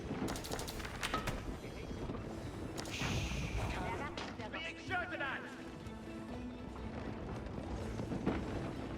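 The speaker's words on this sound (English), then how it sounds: "You have a cannon placed in here with a relic inside, so it's doing excellent damage" Cannon fire in an Age of Empires 4 battle, with a relic-boosted cannon bombarding a wall alongside a battering ram, horsemen and mangonels: dense booming blasts and clattering combat layered continuously under a commentator's voice.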